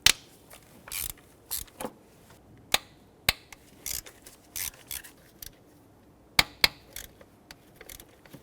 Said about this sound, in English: I'm using hand tools here, no power. Just want to make sure we can break everything free first.